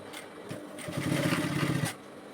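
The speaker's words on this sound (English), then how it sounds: "So you just sew it like that all the way around." A sewing machine stitches around a reversible bonnet cap in a short, steady whirring run of about one second, close and moderately loud, with quieter handling noise before and after and no talking.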